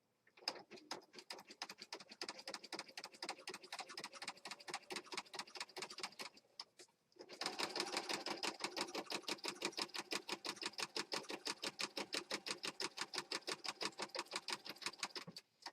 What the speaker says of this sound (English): All right, so let's stitch down here.